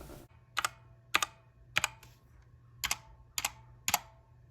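Keystrokes on a RedDragon K530 compact mechanical keyboard with springy, unlubed switches, struck in six close pairs of sharp clacks spaced about half a second apart, close and clear over a low steady hum.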